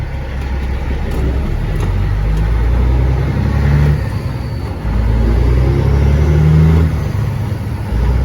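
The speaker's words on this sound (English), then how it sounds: "You guys listen to the truck a little bit here." Freightliner FLD120 semi truck driving on a road after rain, its engine rumbling steadily and loudly close by, with a brief dip before the drone builds again; no talking.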